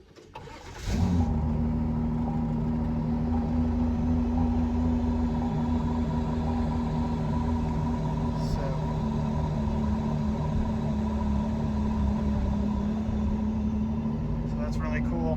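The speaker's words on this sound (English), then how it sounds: "I've also got the windows open so you can hear the exhaust." A 2019 Ford GT Heritage Edition Gulf supercar fires up with a sharp starter crank and catch, then settles into a deep, steady exhaust idle rumble, heard from inside the cabin with the windows open, with one faint blip partway through.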